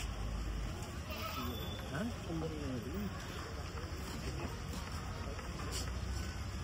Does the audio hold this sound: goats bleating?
yes